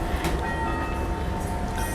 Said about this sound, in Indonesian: ada suara kereta ya